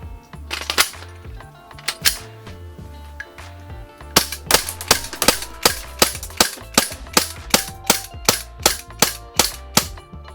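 An Umarex SRC Glock 17 Gen5 CO2 airsoft pistol fires BBs in sharp, loud cracks. A few shots are spaced unevenly at first, then a steady string of about fifteen rapid, evenly timed shots follows.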